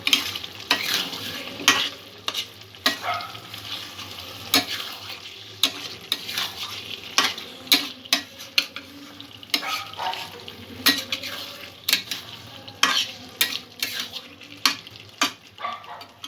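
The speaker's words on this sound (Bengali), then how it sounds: "সব কিছু ভালো করে মিক্স করে নেব।" Spinach and potato curry being stirred in a pan, a spoon scraping and knocking in steady irregular strokes over a soft continuous sizzle, close and fairly loud with no talking.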